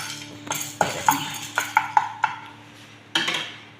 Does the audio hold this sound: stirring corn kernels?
yes